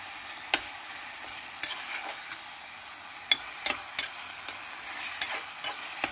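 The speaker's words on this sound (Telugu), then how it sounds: "అల్లం వెల్లుల్లి పేస్ట్ వేసేస్తున్నాను. టమాటా కూడా వేసుకుందామండి ఇందులో." Mutton keema frying with ginger garlic paste and tomato in a pan: a soft continuous sizzle broken by scattered sharp spoon clinks and scrapes at irregular intervals, close and moderately quiet.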